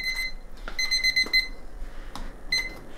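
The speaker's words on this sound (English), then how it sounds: "There's the buzzer." A kitchen timer buzzer goes off while a casserole bakes, sounding as bursts of fast high electronic beeps, several close together then a couple more after short pauses, moderately loud and without voices.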